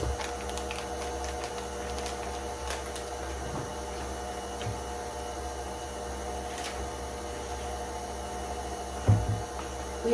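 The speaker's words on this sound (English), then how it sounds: "I'm gonna let this mix up for just a little bit" A kitchen mixer beats sourdough chocolate cake batter with a steady, fairly quiet motor whir and hum that runs unbroken, with no one talking.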